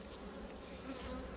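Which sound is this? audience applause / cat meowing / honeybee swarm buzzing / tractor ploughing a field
honeybee swarm buzzing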